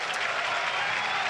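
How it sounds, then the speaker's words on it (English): Steady, dense applause from a big football crowd at Turf Moor as Burnley's substitutes come out before a Premier League match against Newcastle, a continuous wash of clapping heard alone with no voices over it. "Even the subs are getting applauded on."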